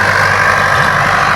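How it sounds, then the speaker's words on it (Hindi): A tractor engine runs steadily in a sugarcane field being prepared for planting, a loud, close, continuous diesel rumble with no pauses or voices. "अब इसमें ट्रैक्टर चल गया"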